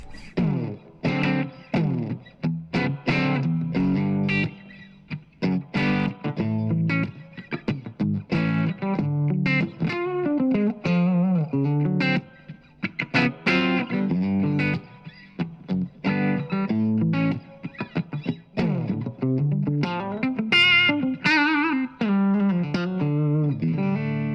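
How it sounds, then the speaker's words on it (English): An electric guitar plays through a Blackstar ID:Core High Power 100 amplifier on its clean bright voicing, a continuous loud run of picked notes and chords up close, sparkling and sustained. "So this next voicing is clean bright, a little bit more sparkle there, a bit more of a boutique tone if you like."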